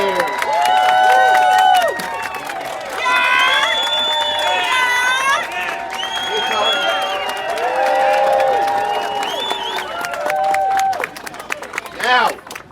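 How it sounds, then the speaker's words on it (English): Crowd at a New York cannabis rally applauding and cheering for organizers, a dense, sustained roar of clapping and shouting voices that swells, dips slightly and rises again for about twelve seconds. "I want to hear a big, long New York round of applause for every single organizer"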